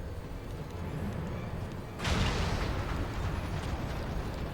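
Cannon fire erupts in the video game Final Fantasy XIV, a sudden broad explosive blast that jumps in loudness and then rumbles on continuously at a steady, dense level, with no talking.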